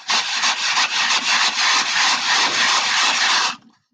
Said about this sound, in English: You can shake it like just a shaker.